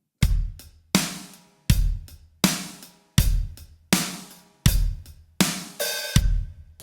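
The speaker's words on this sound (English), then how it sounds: "the bronze version is just playing straight eighth notes on every groove" A drum kit plays a basic beginner money beat, kick and snare alternating under straight eighth notes on the hi-hat, a steady, close, loud groove repeating through the measure without talk.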